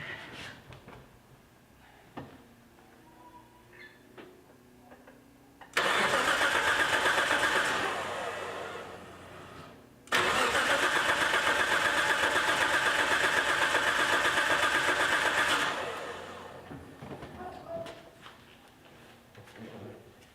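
Nissan S14 with an R35 coil pack upgrade and a fault-hooked harness being test-started: a long loud cranking whir with a brief pause between two attempts, without firing up, amid quiet background sounds.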